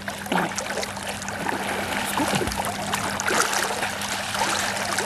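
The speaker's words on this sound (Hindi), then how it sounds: "पानी का बहाव बहुत तेज है पानी का बहाव।" Fast-flowing river water in a jungle rushes and gurgles in a continuous broad wash, close and moderately loud, with small splashes scattered through it.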